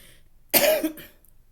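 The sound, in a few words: cough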